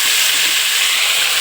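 Rice with coriander stirred gently in a pan over low gas, a dense, even, loud sizzle held steadily throughout with no pauses.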